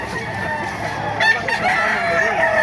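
A rooster crows amid clucking chickens and busy market noise at a chicken market in Baliuag, Philippines, fairly close and loud.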